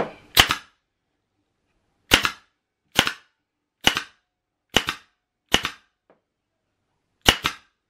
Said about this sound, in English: And then staple.